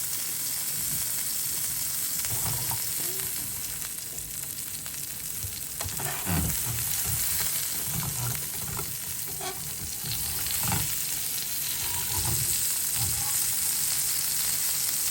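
Burgers fry on a stove, a steady close sizzle with scattered louder pops and crackles, while a spatula stirs and scrapes now and then.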